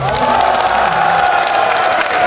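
A crowd of Ninjas in Pyjamas fans at the DreamHack Summer 2014 esports event lets out a loud, sustained cheer with whoops and applause, a dense, steady roar filling the hall from start to finish.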